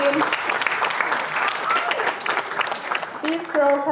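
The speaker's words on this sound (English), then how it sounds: "Can I get a round of applause for these beautiful ladies?" A crowd of wedding guests applauds the bridesmaids with steady, dense clapping that runs the full length, fairly close, with a voice or two cutting through near the end.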